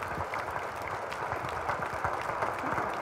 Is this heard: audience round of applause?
yes